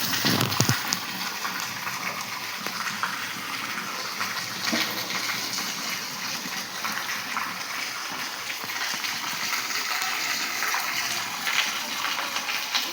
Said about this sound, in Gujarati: તો જો ફાસ્ટ વરસાદ આવ્યો